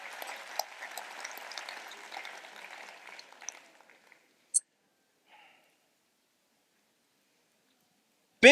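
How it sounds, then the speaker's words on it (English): An audience at a tech conference talk claps for a departing speaker, a few seconds of scattered applause that thins out and stops, followed by near silence and a couple of isolated clicks. "Give her one more round of applause."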